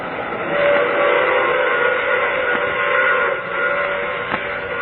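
Steam train rolling past in an old-time radio drama, a steady loud rumble of wheels and cars filling the scene with whistle tones sounding over it, no voices.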